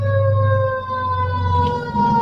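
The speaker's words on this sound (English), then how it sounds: "Goodness me, how many fire engines are going to go by?" A fire engine siren wails loudly and steadily as the truck passes nearby, its sustained tone holding with a slight shift in pitch.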